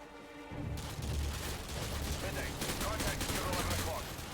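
Gunfire in Call of Duty: Modern Warfare 2, a dense burst of rapid shots and booms that starts abruptly after a brief quiet moment and stays loud and sustained through the rest of the clip.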